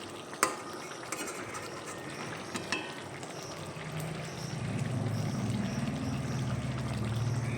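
Pointed gourd curry stirred in a pan, opening with a few sharp utensil knocks before a continuous frying sizzle swells and holds steady toward the end.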